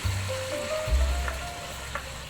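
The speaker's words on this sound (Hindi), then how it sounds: "2 मिनट भूनने के बाद मैं इसमें और दही डाल रही हूँ" Mutton frying in a karahi as yogurt goes in, a steady close sizzle and crackle with a few soft stirring knocks, continuous and fairly loud throughout.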